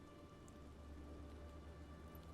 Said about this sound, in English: Drizzly rain.